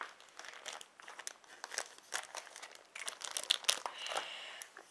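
Plastic packaging around an Apple iPad snap case crinkles and tears in steady, close handling, quiet and continuous with no talking.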